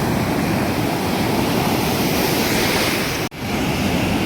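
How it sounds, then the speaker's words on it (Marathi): High sea waves at Achara beach roar as steady, loud, broadband surf noise, with a brief dropout near the end before the wash resumes. "समुद्र एवढा मोठा आहे आणि त्याच्यावर बघा खूप लाटा उंच उंच आहेत"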